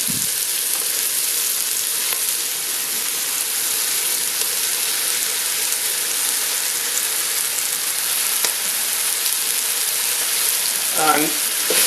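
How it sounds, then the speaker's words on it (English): 500 grams of minced beef fries and browns in a pot for chilli con carne, giving a loud, continuous close sizzle, with a brief stir or clatter near the end. "you need to turn the heat up because you're putting in the mince and you want the mince to basically brown, so that is kind of fry."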